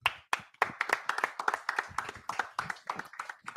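A crowd at a Feast of Tabernacles closing gathering claps in loose, uneven bursts of close, distinct handclaps that keep going throughout.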